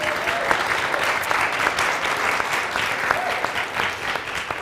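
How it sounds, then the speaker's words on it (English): An audience at a community event gives a round of applause, dense steady clapping that carries on at even loudness for several seconds with no voices standing out. "let's give you guys another round of applause."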